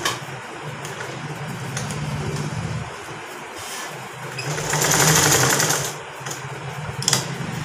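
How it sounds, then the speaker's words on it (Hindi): A sewing machine stitches elastic onto a circular umbrella plazo in short bursts of fast rattling runs with brief pauses between, close and alone without talk. "अब ये दोनों इलास्टिक पे हमने सिलाई लगानी है, इन दोनों को हमने सील लेना है।"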